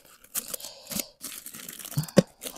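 A plastic earring bag rips open in a few short, crinkly tears close by, with brief bursts of crackling plastic between quiet pauses.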